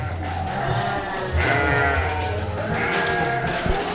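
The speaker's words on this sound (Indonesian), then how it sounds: "Kita juga punya domba adu di sini ya." Garut fighting sheep bleating repeatedly at close range, with a louder stretch midway, amid pen noise and faint background chatter.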